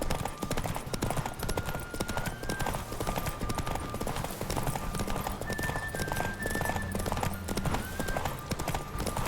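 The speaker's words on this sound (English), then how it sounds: "Don't spare the horse!" Galloping hooves pound in a fast, continuous clip-clop during a horse race in The Witcher 3, close and steady, with occasional neighs and faint game sounds behind.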